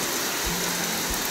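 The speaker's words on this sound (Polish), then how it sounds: "nie wiem, czy się przekrzykiwać z tym deszczem." Rain falls steadily outdoors with a dense, continuous hiss, close and fairly loud, with a couple of low thumps and no voices.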